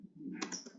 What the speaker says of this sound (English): So our final product name we need to type.